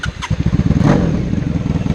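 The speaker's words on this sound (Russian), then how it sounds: "Мы заводим мотоцикл." A motorcycle engine cold-started for a pre-purchase check catches after a short crank and settles into a loud, close, rapid idle thump with a slightly uneven, lumpy rhythm.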